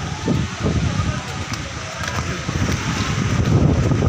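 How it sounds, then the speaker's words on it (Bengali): Storm wind roars steadily and loudly throughout, a dense broadband rush that swells slightly toward the end, with voices faintly audible beneath. "আরে তুফান রে তুফান"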